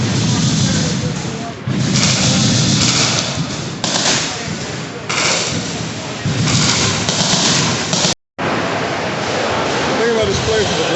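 Machine gun fire at the Knob Creek machine gun shoot, a continuous dense roar of distant bursts and booms, with a brief break, while a voice talks over it.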